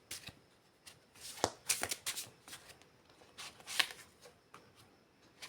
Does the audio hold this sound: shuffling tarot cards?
yes